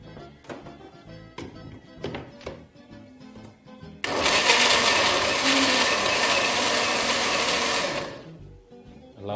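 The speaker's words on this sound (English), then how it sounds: "Now I'm just going to add just a bit of liquid just to allow it to blend really easily in the blender." A blender runs on tomato soup with a little added liquid, a loud steady whirring roar starting abruptly midway and holding for about four seconds before cutting off, preceded by kitchen clatter and faint talk.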